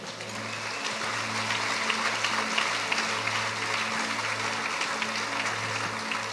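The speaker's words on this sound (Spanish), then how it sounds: "Y dale un aplauso fuerte a Dios." A church congregation applauds during a sermon, a dense, steady wash of clapping that carries on evenly from a distance, with a low hum underneath.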